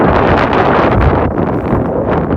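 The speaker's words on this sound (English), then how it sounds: "we're in a super windy field here right now" Strong wind roars and buffets the microphone continuously in an open field, a loud rumbling gusty rush with no talking.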